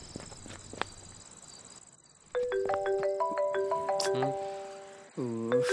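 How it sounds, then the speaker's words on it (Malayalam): A mobile phone rings with a bright electronic melody, stepping through sustained tones, loud and close, after a stretch of quieter background ambience; a brief voice may be heard alongside. "നീ ഫോൺ എടുത്തേ. അവൾ ഇങ്ങനെ വിളിച്ചോണ്ടിരിക്കും."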